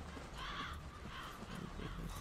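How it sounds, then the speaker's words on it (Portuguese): Crows cawing in the dark fantasy game Dark Souls 3, a few faint, distant caws repeating over a low ambient background. "Escutando passos ou é só os corvos? É só os corvos."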